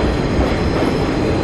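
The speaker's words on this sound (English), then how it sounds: "I'm on the subway right now." Riding inside a New York subway train: a loud, continuous rumble of the moving car with a faint rattle of wheels on track, heard alone with no talking.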